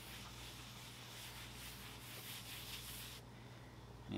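A rag wipes a first coat of flat finish onto a live edge wood mantle, making faint, soft rubbing strokes over a low steady hum before a brief louder bump at the end.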